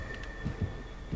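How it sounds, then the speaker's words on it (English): A heartbeat warning from the video game Dead by Daylight thumps in low, soft paired beats over a steady electronic hum, repeating roughly twice in just over a second, with no talking. "Oh, that's a heartbeat."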